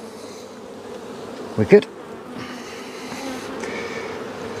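Honeybees buzz steadily in an opened hive during beekeeping as a brood box is lifted, the hum continuous throughout with a brief louder knock near the middle and a short spoken remark.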